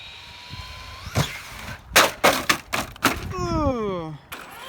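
Traxxas Slash 4x4 VXL RC car racing toward a jump ramp, a rising motor whine followed by a rapid series of hard clattering impacts and another descending whine, with a voice speaking in between.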